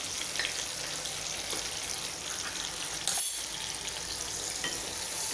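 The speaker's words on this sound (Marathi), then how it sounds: "हे छान आपण परतून घ्यायचे आहेत मसाले।" Ground cumin, turmeric, asafoetida and coriander powder fry over low heat in a pan, a faint continuous sizzle with a brief louder clatter of stirring midway.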